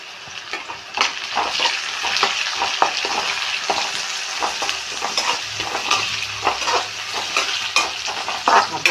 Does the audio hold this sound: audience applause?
no